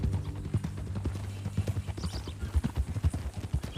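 Horse hooves clip-clop steadily on the ground in the video game Red Dead Redemption 2, a brisk close rhythmic beat of a walking horse, with faint low ambient noise underneath.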